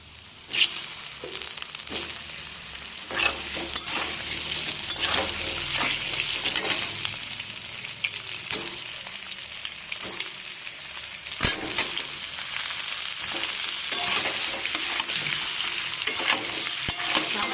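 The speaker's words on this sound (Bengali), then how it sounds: "একই তেলে আলু আর ফুলকপিটা আমি ভেজে তুলে নেব।" Potatoes and cauliflower frying in the same hot oil used for tangra fish, a loud, continuous close-up sizzle with scattered pops and stirring scrapes throughout and no voices.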